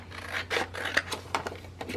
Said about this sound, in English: I'm just grabbing my scissors.